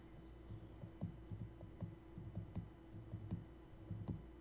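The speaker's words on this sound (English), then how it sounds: "Phil's drumming his fingers on his keyboard" Fingers drum in quick irregular taps on a computer keyboard, a close, quiet patter of soft clicks repeating through the moment with no one speaking.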